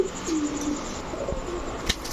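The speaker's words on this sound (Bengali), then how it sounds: "এখানে টোটাল চার জোড়া কবুতর" Pigeons, including Giribaz, Lahori and racer breeds offered for sale, coo softly nearby in a few low, throaty calls, with a brief thump of background activity.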